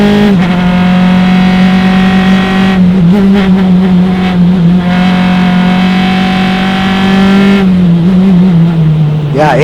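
Formula Continental open-wheel race cars scream at high revs on the Mid-Ohio circuit, a loud sustained engine whine with pitch dips at gear changes, and a commentator talking over the roar.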